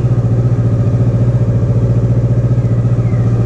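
A 2018 Kawasaki Versys 650 ABS Tourer idles cold at about 1800 RPM, a loud, steady, close-up throbbing engine pulse with an even rhythm that holds for the whole stretch.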